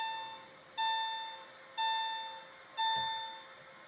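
A 2001 Porsche 996 C4 instrument cluster sounds its lights-on warning, a bright electronic chime repeating steadily about once a second, each tone decaying gradually, close and clear with no talking.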